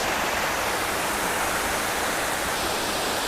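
A big waterfall gives a steady, loud, even roar of rushing water, with no pauses or voices.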